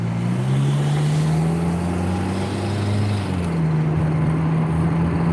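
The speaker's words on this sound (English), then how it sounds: "But we gonna put her on the freeway, overheating." A 2002 Honda Accord with an overheating problem cruises on the freeway, its engine and road noise forming a loud, steady drone with a slowly shifting pitch and no talking.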